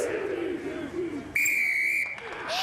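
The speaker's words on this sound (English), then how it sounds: "Shrill blast of the whistle." A referee's shrill whistle blast sounds for about a second over crowd noise and a commentator's voice at a professional rugby match, followed by another short whistle at the end.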